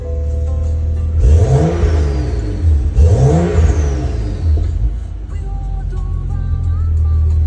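A 2014 BMW 435i engine revs twice in quick, loud sweeping rises and falls while the car sits idling close by, then settles back to a steady idle.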